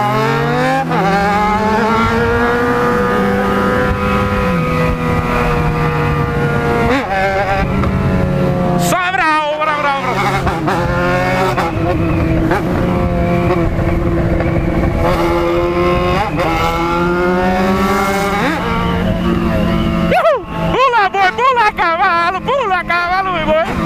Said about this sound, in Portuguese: Você escuta o barulho da minha moto